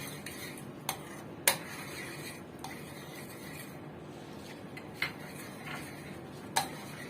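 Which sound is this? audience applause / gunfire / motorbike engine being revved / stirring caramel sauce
stirring caramel sauce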